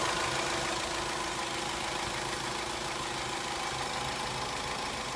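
A 2003 Dodge Stratus 2.4-liter dual overhead cam four-cylinder engine idles steadily, a close, even mechanical hum with a faint ticking texture and no talking.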